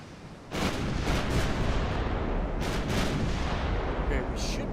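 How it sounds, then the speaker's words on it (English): Heavy naval gunfire from battleships in Ultimate Admiral Dreadnoughts: a dense rumbling barrage of booming shots, with several louder blasts standing out over a continuous roar. "It's about to start shooting at us, I think."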